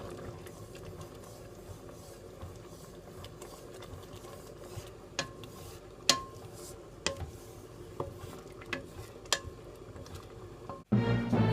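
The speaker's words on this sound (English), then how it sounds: "now we're gonna stir fry and try to fry away all those liquid" Quiet sizzling of sweet adzuki bean paste being stir-fried in a pan, with occasional scraping clicks of a utensil against the pan, steady and close.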